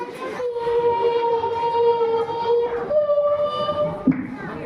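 At a school inter-house cultural competition, a voice mimics a fly's buzz with a steady, droning hum that holds its pitch, then shifts slightly and cuts off.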